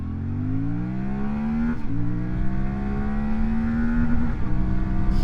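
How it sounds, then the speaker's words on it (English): CFMOTO Ibex 450 adventure motorcycle revving hard through the gears, a steady rising engine drone up to the rev limiter, close and continuous under wind rush, then dropping as it shifts. "Rev limiter there, it's easy to hit it."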